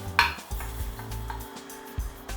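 A spoon stirs thick, simmering ashure in a pot after toasted sesame goes in, giving soft scraping strokes and a few light clinks against the pot over a low bubbling background.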